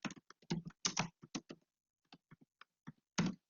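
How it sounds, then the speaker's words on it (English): Keys on a computer keyboard clack in irregular bursts while a name is typed into a Word document, close and crisp, with short pauses between clusters of keystrokes. "then they want you to type David Alzacar"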